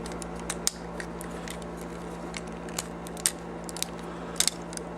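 Plastic parts of a Transformers Alternity Skywarp toy being folded at the waist: small, sharp clicks and ratchety snaps scattered over a steady hum, close and quiet, with no talking.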